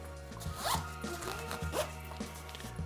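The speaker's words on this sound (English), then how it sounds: "So there's a main zipper where you could put your clothes inside." The main zipper of a carry-on travel bag is pulled closed in several quick rasping strokes, close and clear, with faint rustling of fabric between pulls.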